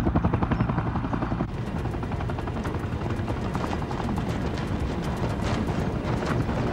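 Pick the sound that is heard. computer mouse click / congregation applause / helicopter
helicopter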